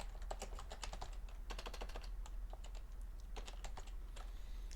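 Code is typed on a computer keyboard in quick, irregular bursts of clicky keystrokes, close and fairly quiet over a low steady hum, with no talking.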